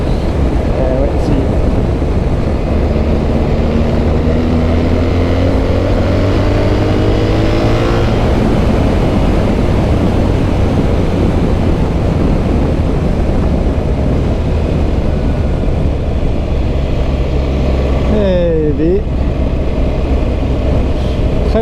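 A BMW R1300GS motorcycle (option 719) with an Akrapovič exhaust is ridden under steady wind noise, its engine note rising through several pulls, with a brief rushing pass-by near the end.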